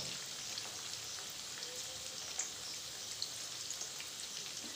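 Chicken pakora pieces frying in hot oil, a steady, dense crackling sizzle with small pops scattered throughout, close and continuous.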